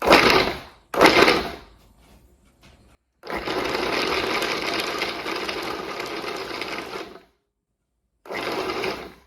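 A food processor pulses butter into flour for pie dough. Two short whirring bursts come first, then a longer run of about four seconds, and one more brief pulse, with silences between.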